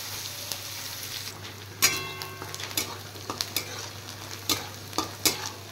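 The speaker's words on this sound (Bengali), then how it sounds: "পেঁয়াজটা ভালো করে ফ্রাই করে নেব আগে।" Chopped onions and green chillies frying in a pan, a steady close sizzle with stirring clatters and sharp ticks scattered throughout, no voices.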